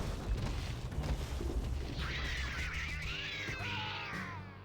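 A cat in the video game American McGee's Grimm lets out a drawn-out, wavering meow over low rumbling game sounds and booms, fairly clear and close.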